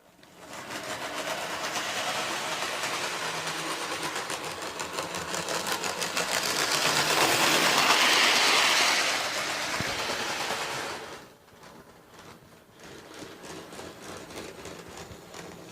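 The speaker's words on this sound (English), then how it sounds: "See the royal train coming round the corner." A model train on a layout set up for a royal wedding scene runs steadily with a fast, rattling mechanical whir, growing louder as it passes close by, then fading to a quieter clatter.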